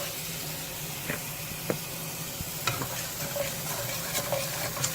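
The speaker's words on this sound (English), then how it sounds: "And I stir that all in." Ketchup is stirred into beef and shrimp pad Thai in a hot pan, with a steady sizzle underneath and occasional soft scraping and clinking strokes of the utensil close by.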